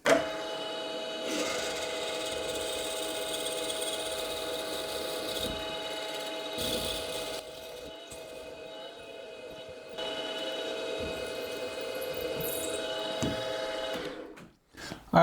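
A machine drill runs at 1000 RPM boring a 5.9 mm pre-drill hole, a steady, faint mechanical whine and hum with slight shifts in pitch as it cuts, then briefly dips near the end.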